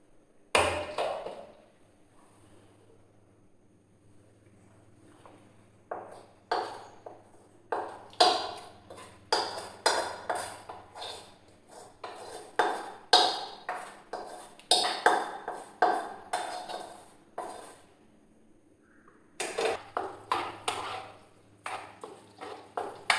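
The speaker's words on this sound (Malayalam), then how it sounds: "ഇനി നമുക്ക് നൂഡിൽസ് മിക്സ് ചെയ്യാം." Noodles are tossed with masala in a pan, with a run of metallic taps, clinks and scrapes of a utensil against the pan in irregular bursts separated by short quiet gaps, heard close with no talking.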